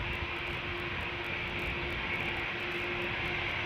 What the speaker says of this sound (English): can already hear the CF6, the A330